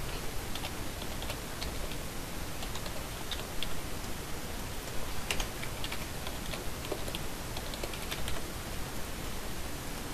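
Quiet, rapid keystrokes as a password is typed on a computer keyboard, a steady run of small irregular clicks under a constant hiss of background noise.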